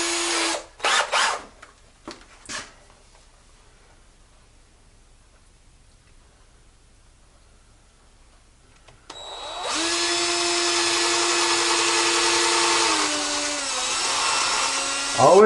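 A few brief bursts of a power drill at the start, a long quiet stretch, then a sustained whining drill run biting through wood until the end.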